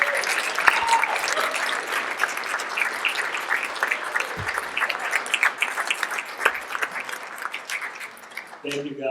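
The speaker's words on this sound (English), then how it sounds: "I got a round of applause for him." Audience applause for a comedian at a benefit comedy show, steady clapping with crowd voices underneath that tapers off near the end as a voice begins.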